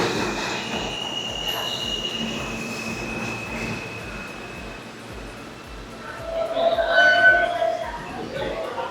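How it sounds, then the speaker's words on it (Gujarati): A New York subway R train pulls into a station, its wheels squealing in high drawn-out tones as it slows, louder toward the end, with a steady rumble and murmuring voices nearby. "તો આપણી ટ્રેન આવી ગઈ છે, આર ટ્રેન લઈને હું જઈશ"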